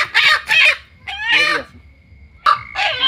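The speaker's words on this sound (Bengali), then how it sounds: "আমি সাক্ষ্য দিচ্ছি যে এটা দেশি মুরগি" Local country chickens clucking and crowing close by at a village gathering, several loud bursts of calls separated by short pauses.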